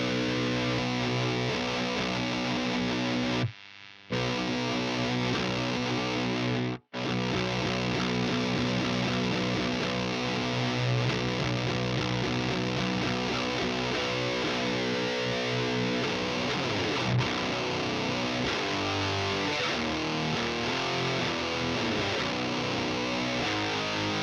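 Electric guitar played through a KMA Audio Machines Fuzzly Bear silicon fuzz pedal, a thick, gnarly distorted tone ringing out continuously with sustained chords and riffs, broken by two brief drops to silence, no talking.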